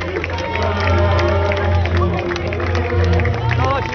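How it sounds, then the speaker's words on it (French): Outdoor crowd at the Chartres–Paris pilgrimage applauding arriving pilgrims, steady clapping and cheering mixed with crowd babble and voices, continuous and fairly loud throughout. "On les applaudit bien fort."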